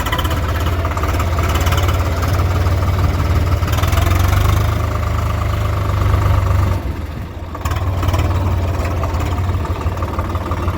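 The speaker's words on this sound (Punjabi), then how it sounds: "ਦੋ ਟਰੈਕਟਰ ਦੋ ਟਰਾਲੀਆਂ ਹੋਰ ਆਉਂਦੀਆਂ" A tractor engine idles loud and close with a steady low rumble and faint knocking, dipping briefly before settling back to the same drone, with no talk over it.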